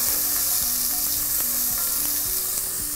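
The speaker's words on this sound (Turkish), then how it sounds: "Yağımız iyicene kızmış. Hemen sinirlendi." Onions frying in hot oil for a Turkish sour meatball dish, a loud, steady sizzle with occasional scraping clicks of a utensil stirring the pan.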